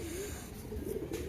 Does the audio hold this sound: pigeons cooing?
yes